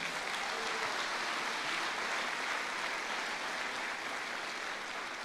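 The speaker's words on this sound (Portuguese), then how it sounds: "você pode dar um aplauso a Jesus?" A church congregation applauds for Jesus, a dense, sustained wash of clapping from many hands that holds steady at a moderate distance without voices.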